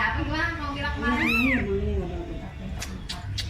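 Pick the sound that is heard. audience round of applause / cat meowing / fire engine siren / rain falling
cat meowing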